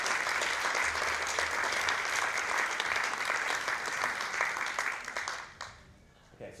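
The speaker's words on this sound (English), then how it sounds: "Please give them a warm round of applause." An audience gives sustained, even applause as Q&A panelists return to the stage at a Vivid Sydney event, a dense wash of clapping that fades out over the last second.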